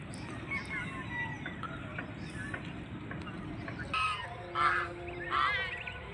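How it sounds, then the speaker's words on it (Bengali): Ducks call with a few honking quacks in a village setting on an afternoon, the calls rising over outdoor background noise with faint voices nearby. "হাঁসের ছানাগুলো অনেক সুন্দর লাগে।"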